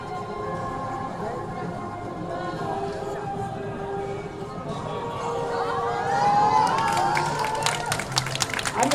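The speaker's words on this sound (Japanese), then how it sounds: "うまくいきましたら皆さん大きな拍手を。" Street-performance crowd in Asakusa cheering and clapping after a knife-spinning trick, the noise swelling over the last few seconds with whistles and shouts while a performer's voice talks over it.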